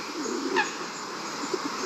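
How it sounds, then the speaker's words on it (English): Pigeons or doves coo softly outdoors, giving a few low, brief calls over a quiet, steady background hiss, with no talk. "these little dovies, whatever we call them, pigeons, pay me a visit"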